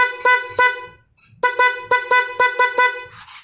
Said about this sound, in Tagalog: Pahingan natin yung busina.